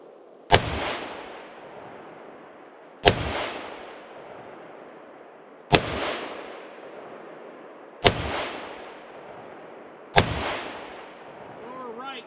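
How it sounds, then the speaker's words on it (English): Five gunshots ring out one after another, evenly spaced roughly two and a half seconds apart, each a sharp, loud crack trailing off in a short decaying echo. "5 shots"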